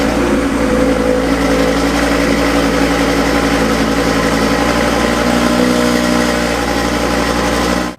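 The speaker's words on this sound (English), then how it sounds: "they have an insane exhaust rattle when they do a cold start" An Audi RS3 on a cold start, its exhaust rattling over a loud, steady high idle; a constant engine drone with a buzzy metallic edge runs unbroken for the whole stretch, close and alone.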